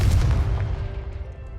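A Confringo fire spell from the video game Hogwarts Legacy goes off as a deep booming blast, its low rumble strongest at the start and fading over about a second and a half, with no voices.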